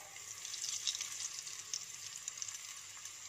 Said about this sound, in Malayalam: അപ്പോൾ എണ്ണ ചൂടായിട്ടുണ്ട്, നമുക്ക് ഓരോന്ന് അങ്ങോട്ട് ഇട്ട് കൊടുക്കാം.